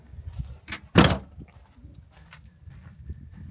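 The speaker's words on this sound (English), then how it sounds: "I can simply close the door." A camper door on an overlanding rig swings shut with one solid thunk near the middle, preceded by a couple of lighter knocks and followed by soft rattles, close up.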